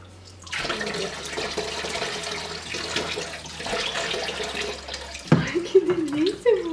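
Running water splashing as a baby is rinsed during a bath, a steady rush of flow that stops near the end, with someone speaking and the baby vocalizing.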